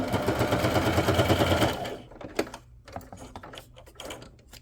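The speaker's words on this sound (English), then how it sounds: "I don't really want to use glue, so that's why I'm just kind of sewing these little pieces on" A sewing machine stitches small paper pieces onto a paperclip banner, running in a fast steady whir for about two seconds, then stopping to leave quieter handling noises close by.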